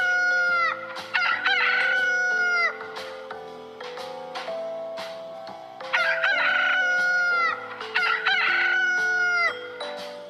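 A rooster gives two long, loud cock-a-doodle-doo crows with clucking between them, set against a sustained musical backing.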